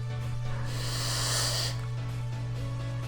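A beatbox inhale: a breathy, hissing draw of air in through the mouth, close and steady, lasting about a second over a constant low hum.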